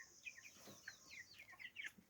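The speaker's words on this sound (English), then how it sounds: "These are my 3 weeks old boiler chickens." Three-week-old broiler chickens on a Jamaican farm give soft, repeated cheeping clucks in quick overlapping bursts, faint and close, with no talking.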